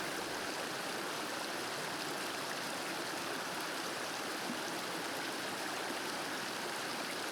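A forest stream in the Ayer Hitam forest reserve flows steadily with a constant broad rush of water, soft and even throughout, with no voices.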